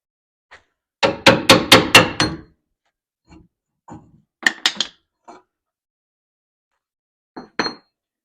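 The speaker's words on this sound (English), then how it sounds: "Let me get my hammer." Hammer blows during a Rough Country 3-inch lift install on a 2019 Ford F150: a fast run of five sharp metallic strikes, then scattered lighter taps and clinks, close and loud with quiet gaps between.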